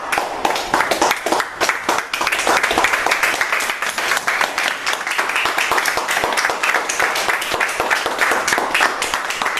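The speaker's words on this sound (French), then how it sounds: "Il faut applaudir. Il faut applaudir. Applaudissez." A church congregation applauding, dense sustained clapping from many hands, loud and steady throughout.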